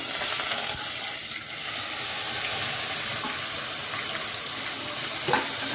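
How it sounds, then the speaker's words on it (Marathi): Curry leaves and spring onion frying in a pan with asafoetida, giving a loud continuous close sizzle with faint stirring scrapes. "मस्त फ्राय करून घ्यायचं"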